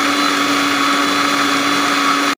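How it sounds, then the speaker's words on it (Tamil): A mixer grinder blending curd, sugar and ice for sweet lassi gives off a loud, steady motor whine with a constant tone that runs unbroken and stops abruptly at the end. "அப்படியே கிளீனாக வந்து அரைச்சி எடுத்துடலாம் மிக்சியில்"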